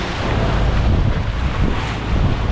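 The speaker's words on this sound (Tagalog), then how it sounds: "Nabigla po ulit sa mga alon kasi bungad pa lang alon oh." Wind and rough sea waves buffet a small boat heading out through a river mouth toward a fishing spot, a loud, continuous roar of gusts and churning water with no voices.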